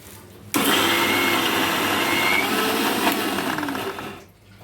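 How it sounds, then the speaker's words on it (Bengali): An electric blender grinds lentils with onion and green chili into a coarse paste, a loud, steady whirring roar that starts abruptly, runs about four seconds without talk, then cuts off. "প্রথমেই আমরা মসুর ডালের সাথে পেঁয়াজ কাঁচামরিচ দিয়ে ব্লেন্ড করে নিচ্ছি।"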